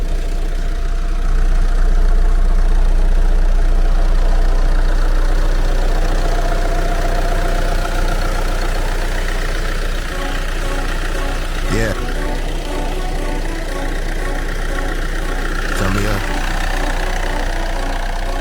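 A 2014 facelift Renault Megane III with a 1.6 diesel idles close by in a steady, even low rumble. A couple of brief clicks break in near the end.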